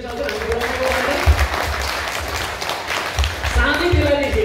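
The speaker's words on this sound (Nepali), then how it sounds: "एकचोटि जोडले ताली बजाइदिन्छ हजुर" An audience claps at a Lions Club officers' workshop, steady applause under a speaker's voice that continues through the clapping.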